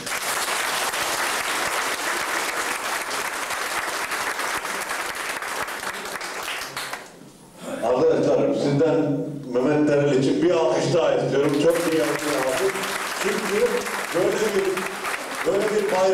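An audience at a speech gives loud, sustained applause. The clapping pauses briefly while a voice speaks, then resumes and continues.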